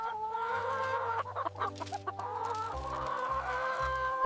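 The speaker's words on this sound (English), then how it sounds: "The hens started eating moringa-based food." Laying hens eating moringa-based feed cluck steadily and close by, with low repeated clucks and higher calls overlapping in a busy flock chorus.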